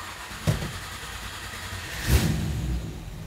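A 1963 Chevrolet Impala with an overheating problem starts up: two sharp cranking bursts fire, then the engine settles into a steady, fairly quiet idle, with no talking.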